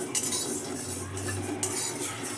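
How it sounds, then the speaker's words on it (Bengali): Spices are dry-roasted in a pan for green chilli pickle and stirred with a utensil, producing quiet scraping with a couple of light metallic clinks, and no talking. "সমস্ত মশলাগুলোকে ভালো করে ড্রাই রোস্ট করে নেবো। খুব ভালো করে শুকনো করে নেড়ে নিতে হবে।"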